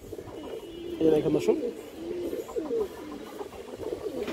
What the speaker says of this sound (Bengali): একটা হাই কোয়ালিটির মাদি কবুতর, খুবই সুন্দর একটা মাদি দর্শক, সিলভার লাইনের একটা মাদি কবুতর